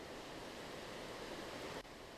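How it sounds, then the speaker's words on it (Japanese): A fast-flowing river, brown and swollen after a day of heavy rain from a tropical depression in southern Hokkaido, rushes as a loud, steady broadband roar with no voices. "こちらの川では流れが速く水が茶色"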